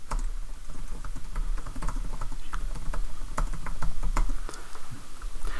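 Rapid, continuous clatter of keys being typed on a computer keyboard, close and fairly loud, with irregular bursts of keystrokes and no voices.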